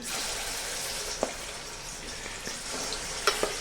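Ground amla paste cooks in melted ghee for homemade chyawanprash, making a soft, even sizzle with a few sharp spoon taps against the pan and no voices.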